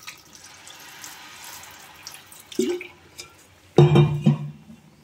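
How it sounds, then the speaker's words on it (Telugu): Water is poured into a drumstick curry simmering in a pan, starting as a short splash and then a louder gushing pour with bubbling, close by and with no talk. "మనకి సరిపడా వాటర్ పోసుకుందాం."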